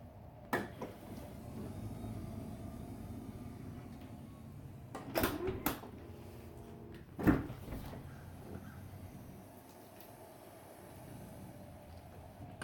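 The rear passenger sliding door of a 2017 Chrysler Pacifica, repaired after a malfunction, runs with a low motor hum and a few sharp latch clunks and knocks, moderately close and quiet, without speech.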